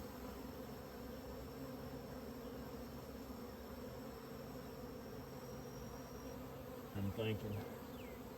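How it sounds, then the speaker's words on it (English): Honey bees swarming around beehives being worked during mini mating nuc stocking, a steady, fairly quiet insect hum running throughout, with a brief louder thump or rustle near the end. "get some bees, some nurse bees out of those hives"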